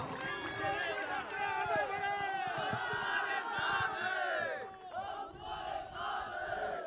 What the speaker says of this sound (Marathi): त्या जोरदार टाळ्या, जोरदार टाळ्या झाल्या पाहिजेत.